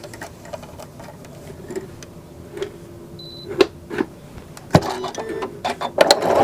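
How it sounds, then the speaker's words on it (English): A sewing machine with a 75/11 blue embroidery needle and regular thread stitches an open-work design on galloon lace, making quiet intermittent ticks and mechanical clicks that grow busier and louder toward the end. "Now I'm just using a 7511 embroidery blue needle and regular sewing thread to do the stitching"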